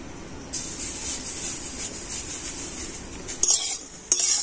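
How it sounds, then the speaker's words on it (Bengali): Fish roe fritters (bora) frying in mustard oil in a pan, a steady high hiss of sizzling that starts abruptly and keeps on, broken near the end by a couple of sharp clinks from a utensil. "আর বাকি বড়াগুলো আমি একইভাবে ভেজে নেব।"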